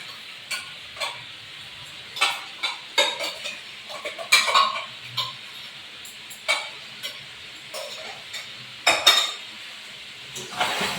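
Chicken cooking in a pot with yogurt and lemon juice, stirred by a spoon that scrapes and clinks against the metal in irregular bursts, with a soft sizzle underneath and no voices.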